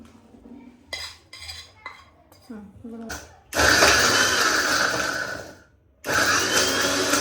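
Roasted red chutney ingredients tipped into a mixer grinder jar with a few clinks and scrapes, then a mixie whirring loudly for a couple of seconds, stopping, and starting again, close by.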